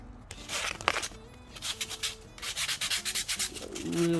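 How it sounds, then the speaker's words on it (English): Hand sanding on purpleheart wood: a scratchy rasp, then a quick run of even back-and-forth strokes, close by. "Real quick surface sanding of that."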